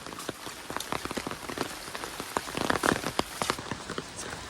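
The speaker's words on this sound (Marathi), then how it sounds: "परत पावसान जोर धरल्या" Heavy monsoon rain in Konkan patters densely on a surface, a steady wash of close, sharp drops that grows slightly louder midway.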